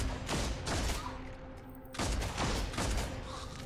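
Gunfire in the Warhammer 40000: Deathwatch video game: two bursts of rapid, booming shots with a short pause between them, loud and close over a faint steady hum, with no talking.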